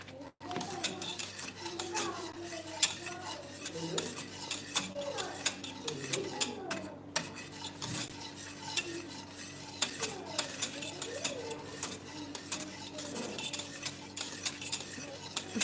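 Food cooks in a pot over low heat while a utensil stirs and scrapes the bottom, making quiet, busy clicks and scratches over a faint sizzle.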